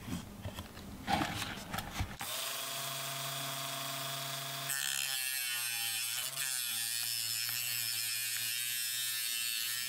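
A rotary tool cuts into the plastic housing of a Harbor Freight magnetic flashlight to fit an 18650 battery, a steady high-pitched motor whine that holds for several seconds after a burst of handling clatter, loud and close.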